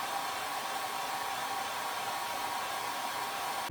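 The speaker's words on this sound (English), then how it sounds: "I even resorted to using my hairdryer to speed things up" A hairdryer blows steadily at close range, a constant whooshing hiss used to dry red paint on handmade foam shoes, running alone without pause.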